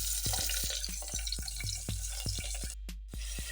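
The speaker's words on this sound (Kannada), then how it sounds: "ಈರುಳ್ಳಿ ಮತ್ತು ಟೊಮೊಟೊವನ್ನು ಸೇರಿಸಿ ಸ್ವಲ್ಪ ಮೆತ್ತಗಾಗೋವರೆಗೂ ಅದನ್ನು ಹುರ್ಕೊಳ್ಳಿ." Chopped onion and tomato fry in a pan for vegetable pulao, giving a soft sizzle under regular, repeated clicks and scrapes of stirring at close range.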